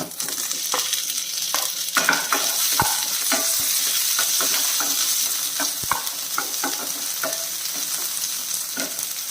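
Chopped ivy gourd (kovakka) frying with cumin in a pan, a steady loud sizzle throughout with frequent close scraping and tapping of a stirring spoon against the pan, no voices.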